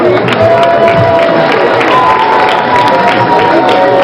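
An audience applauds at a memorial gathering, a dense, steady wash of clapping mixed with crowd noise and some cheering, loud and continuous throughout, with a voice faintly under it.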